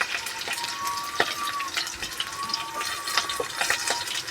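Turmeric and spices being tempered in hot oil for khaman dhokla give a soft, steady sizzle with small crackles and stirring clinks, fairly quiet and without talk.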